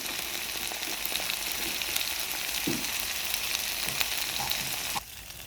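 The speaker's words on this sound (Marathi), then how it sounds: "आता आपण मसाला घालूया, जो मी घरीच बनवलेला आहे।" Homemade masala fries in hot oil for chicken rassa with a loud, steady close-up sizzle and a few soft stirring knocks, then the sizzle drops away sharply near the end.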